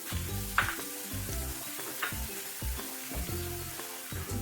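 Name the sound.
chopped garlic frying and being stirred in oil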